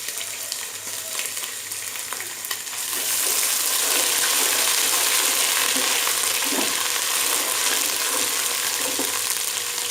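Sliced onions frying in a pan with crushed ginger-garlic paste for chicken rice: a steady, close sizzle that jumps sharply louder a few seconds in and keeps hissing strongly, with no talk.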